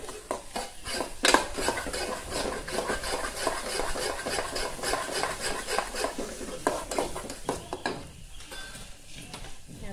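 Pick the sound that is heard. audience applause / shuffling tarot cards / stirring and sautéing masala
stirring and sautéing masala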